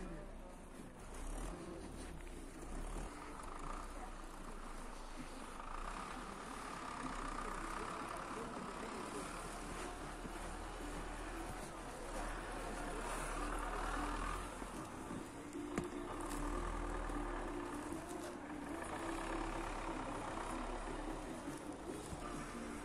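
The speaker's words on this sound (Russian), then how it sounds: "На трактор чистит снег." A tractor clears heavy snow near an outdoor winter swimming pool, its engine a steady low rumbling drone heard from some distance, continuous with mild swells and no speech.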